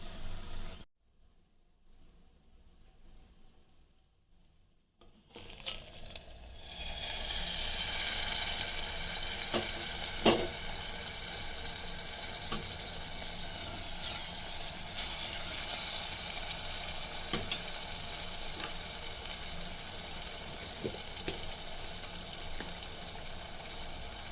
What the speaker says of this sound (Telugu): ఒక చిన్న గ్లాసుడు ఎసరు పోసి ఉల్లిగడ్డ ఉడికించుకోవాలి